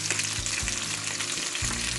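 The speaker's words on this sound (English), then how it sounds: "So 1 spoon of oil here only. Okay, let me fry these up." European sea bream, also called black snapper, fries in a spoonful of oil in a pan, a dense, constant close sizzle and crackle.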